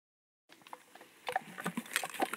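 Hands rummage in a bag after a brief silence, with quick, close rustles and crinkles that grow busier and louder toward the end.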